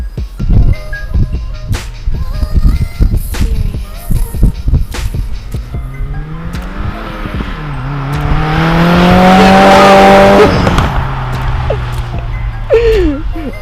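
A Dodge SRT Hellcat at a car meet revs its engine, first with sharp bursts under excited nearby voices, then rising into a loud, sustained roar that fades back out.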